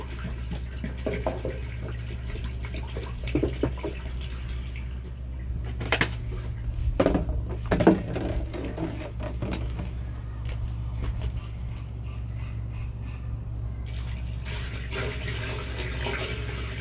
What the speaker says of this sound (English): the line finishes draining off here